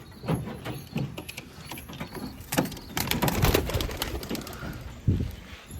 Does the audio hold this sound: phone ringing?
no